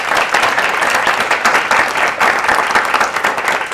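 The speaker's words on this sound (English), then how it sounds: "can we give them one more round of applause?" A public street-planning forum audience gives a loud, sustained round of applause, with dense clapping that stays even from start to finish and no talk over it.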